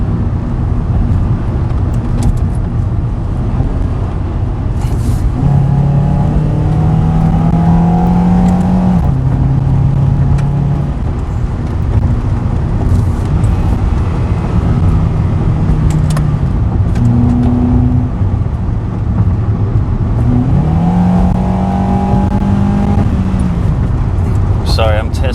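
A 2010 Honda Accord LX sedan drives and accelerates, its engine note rising and dropping repeatedly as it pulls through the gears, loud and close from inside the car, with a voice talking over it.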